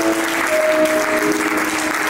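A church congregation applauds in steady, dense clapping that fills the whole brief moment, with a faint tone sustained in the background.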